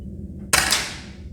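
A single sharp crack from an Edgar Brothers XV2 PCP air rifle, preceded by a faint mechanical click and then a brief fading tail over a quiet background.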